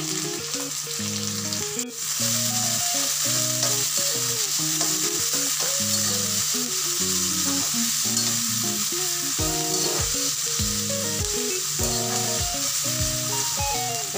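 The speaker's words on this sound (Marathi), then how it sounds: "आता कांदा थोडा लाल होईपर्यंत आपण हे परतवून घेऊया।" Chopped onion and tomato fry in oil for a usal, a continuous hissing sizzle running steadily throughout beneath loud background music with a clear melody and beat.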